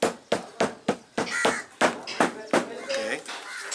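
Hand hammering while making belts in Malindi, Kenya: about a dozen sharp, close blows in a steady, slightly uneven rhythm, with talking mixed in between the strikes.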